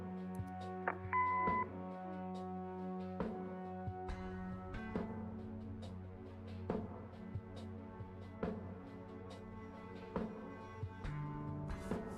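A short electronic answering machine beep sounds in the Kathy Rain video game, a steady tone lasting about half a second near the start, followed by quiet game music and ambience.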